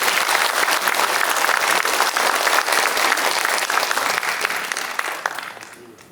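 Warm audience applause welcomes a co-chair taking the stage at a residents' meeting, a dense, sustained roomful of clapping that tapers off over the final second.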